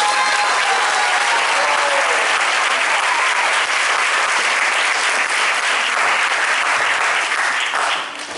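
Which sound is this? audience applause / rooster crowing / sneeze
audience applause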